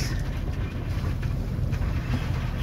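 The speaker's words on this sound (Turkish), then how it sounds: "Sonra yine yapraklıyor yelkenler." Sails luffing and flapping in the wind aboard a sailboat on the western Indian Ocean, a continuous close rush of wind buffeting and rustling canvas over the steady low roar of water and wind against the microphone, no voices.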